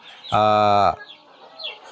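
KUB chickens about 31 days old inside a coop give one loud, close drawn-out cluck followed by softer, fainter clucks and rustling.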